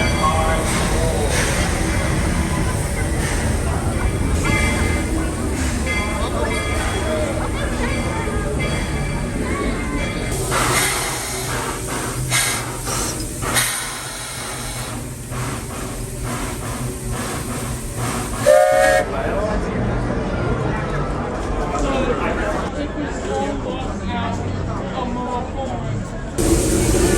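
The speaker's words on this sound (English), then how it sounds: "The Walt Disney World Railroad now arriving from a grand circle tour around the Magic Kingdom" A Walt Disney World Railroad steam train pulls in at the Magic Kingdom, with a loud steady hiss and rumble, a short whistle near the end, and an announcer's voice over the top.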